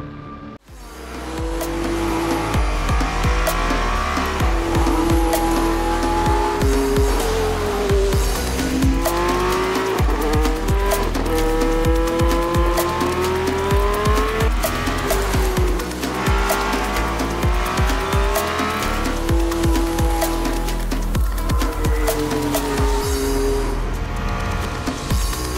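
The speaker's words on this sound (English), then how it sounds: "the leaked footage of the first actual camouflage test drives" A camouflaged Mercedes-AMG One hypercar on a test drive at the Immendingen technology center in Germany, engine note rising and falling through gear changes with squealing tires, loud and continuous for the whole stretch, no voices.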